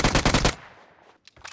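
A quick, loud burst of automatic gunfire in PUBG Mobile on the Miramar map, shooting down a bot, cutting off abruptly and followed by a few faint later sounds.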